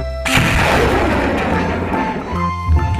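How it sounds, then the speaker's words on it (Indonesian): A toy military rocket truck plays a loud, close electronic firing effect: a sudden boom followed by a rumbling blast that trails off over a few seconds. "Mobil militer bawa roket."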